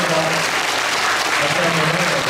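Audience applause in a church hall during a 50th-anniversary classical concert, a dense, continuous wash of many hands clapping at steady loudness, with a few voices faintly mixed in.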